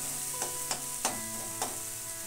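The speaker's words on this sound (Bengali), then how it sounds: "সেদ্ধ করা মটরটা আমি ঢেলে দিয়ে মশলা আর মটর একসঙ্গে ভালো করে কষিয়ে নিচ্ছি" Boiled peas are sautéed with spices in a pan, a soft continuous sizzle with four distinct scraping stirs spaced about half a second apart, quiet and without talk.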